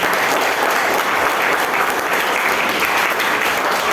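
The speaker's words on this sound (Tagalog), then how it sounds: "Hapalakpan po natin ang Panginoong Diyos na nagkala sa atin ngayon" A church congregation claps together in loud, continuous applause, steady and unbroken throughout.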